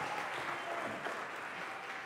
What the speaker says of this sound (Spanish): Un aplauso para Hugo